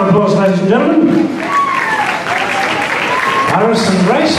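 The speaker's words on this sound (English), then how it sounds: "Let's give them a round of applause, ladies and gentlemen." An audience applauds couples taking the floor at a juvenile standard ballroom dance competition final, with steady sustained clapping throughout while an announcer talks over a loud PA.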